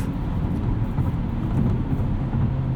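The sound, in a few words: 2022 Hyundai Elantra N manual engine revving, rev matching off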